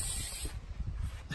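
Bug spray hisses from an aerosol can under an MCI bus, a short, close burst that fades after half a second into quieter rustling.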